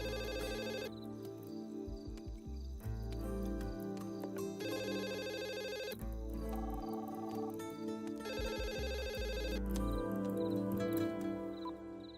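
A landline telephone rings in repeated bursts of trilling bell tones with short gaps between them, steady and fairly loud over a quiet background with no talk.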